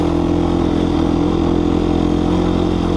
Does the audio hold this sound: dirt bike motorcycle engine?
yes